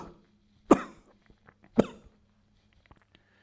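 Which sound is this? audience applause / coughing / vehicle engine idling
coughing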